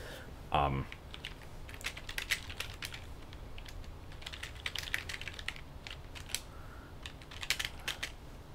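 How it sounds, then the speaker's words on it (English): Rapid typing on a computer keyboard during a game-development stream, dense irregular clicks in bursts lasting several seconds at close range, with one brief louder thump near the start. "what I'm typing right now"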